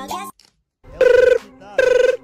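A telephone rings in two loud, close trilling bursts, with brief speech at the start.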